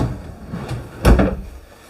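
A pull-out dual trash can drawer in a hard maple RV kitchen slides and knocks shut once, a brief close wooden bump after a soft rolling slide.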